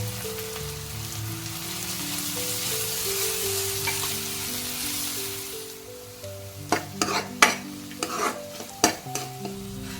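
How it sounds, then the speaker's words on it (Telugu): Ginger garlic paste and softened onions frying for a chicken dahi dum biryani, a steady broad sizzle that fades halfway, followed by sharp spoon clinks and scrapes against the pot as the mixture is stirred, close and without talk. "ఉల్లిపాయలు వచ్చేసి ట్రాన్స్పరెంట్గా అయితే కనుక ఇప్పుడు మనము జింజర్ గార్లిక్ పేస్ట్ వేసేసుకున్నాం."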